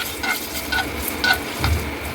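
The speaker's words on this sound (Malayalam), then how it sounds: "ഇനി നമുക്ക് മുന്തിരി ഫ്രൈ ചെയ്തെടുക്കാം." Raisins frying in hot ghee in a pan while cooking a violet cabbage biryani, giving a steady, moderately loud sizzle broken by soft stirring scrapes and light spatters throughout.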